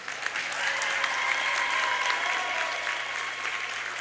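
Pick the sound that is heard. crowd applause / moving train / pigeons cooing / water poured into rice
crowd applause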